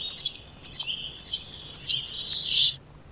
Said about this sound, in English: this is a gold crest